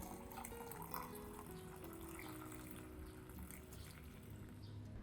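Clean water poured to dilute a filtered tea solution for orchid fertilizer, a continuous quiet splashing and trickling of liquid running steadily for several seconds without speech.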